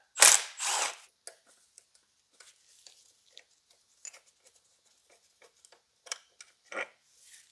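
Hand tools work on a Mercedes CL65 AMG hydraulic suspension while the rear valve block is removed, giving a couple of loud scraping bursts followed by sparse metallic ratchet clicks and taps close up.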